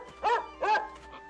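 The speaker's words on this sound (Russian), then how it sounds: "Извините, если пес напугал вас." A dog gives two short barks followed by a softer whimper, close by and fairly clear against a quiet background.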